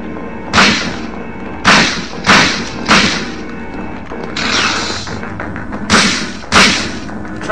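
Shotgun blasts in the horror video game Silent Hill, about seven heavy, booming shots spaced roughly a second apart, loud and close with brief mechanical clatter between them.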